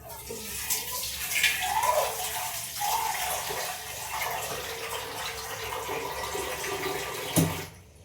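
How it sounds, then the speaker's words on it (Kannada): Water poured into a cooking pot holding dried red chillies, oil and lentils, a steady broadband wash of liquid running for several seconds at close range, ending with a brief knock. "ಮತ್ತು ಅದಕ್ಕೆ ಎಷ್ಟು ಬೇಕೋ ಅಷ್ಟು ನೀರು ಹಾಕೊತೀನಿ"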